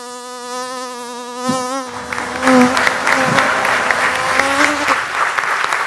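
A voice imitates the buzz of a small housefly with a sustained, wavering drone for about two seconds, followed by a livelier stretch of buzzing mixed with clapping and crowd noise at a Malayalam comedy show.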